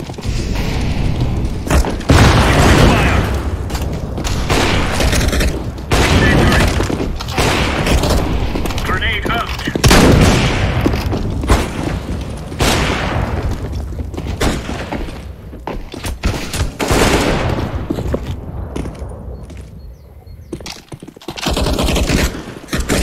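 Rapid loud gunfire bursts and heavy booms from a Counter-Strike: Global Offensive match on PC, with an incendiary grenade thrown amid the shooting; dense, continuous combat noise with voices talking over it.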